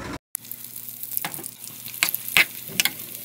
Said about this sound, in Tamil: அதுல கொஞ்சம் நெய் விட்டு அந்த நெய் சூடானதுக்கு அப்புறம் அந்த முந்திரியும் திராட்சையும் போட்டுடலாங்க